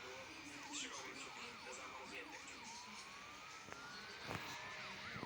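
Police siren wailing during a chase in the video game Highway Drifter, a rapid rising-and-falling wail that later shifts to a slower sweep, heard over engine noise and occasional sharp impacts, fairly quiet overall.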